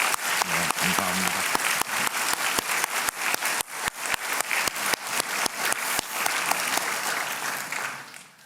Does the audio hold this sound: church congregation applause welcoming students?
yes